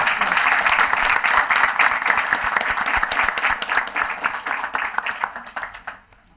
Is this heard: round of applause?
yes